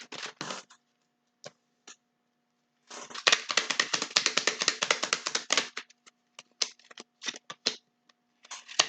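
Tarot cards are shuffled by hand in bursts of crisp riffling and flicking, a long dense run in the middle framed by scattered short taps and slaps, close and otherwise quiet.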